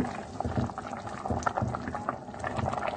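Sardine curry with eggplant and tomatoes simmering in a pot, giving a steady close bubbling and burbling with soft liquid pops throughout.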